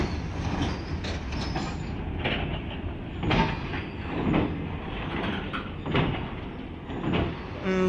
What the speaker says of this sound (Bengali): ট্রেনটি এখন এখানে দাঁড়াবে